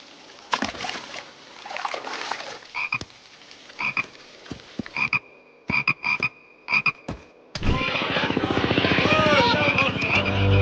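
Cartoon frogs croaking in bursts of short, repeated calls, then a denser, louder chorus of many croaks toward the end, with no talk.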